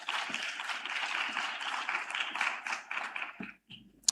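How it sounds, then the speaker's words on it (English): A youth summit audience applauds, a steady wash of many hands clapping at moderate distance that thins out and stops near the end, followed by a couple of isolated taps. "A hand of applause"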